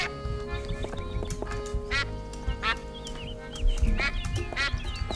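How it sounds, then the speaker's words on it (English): A duck in Escape from Monkey Island quacks several times in short, nasal calls spaced irregularly over soft background music, clear and close. "And there's a duck. Can I pick up the duck?"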